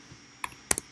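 A few quick computer keyboard keystrokes, one soft tap followed by a tight pair of sharp clicks, close and clear against a quiet room.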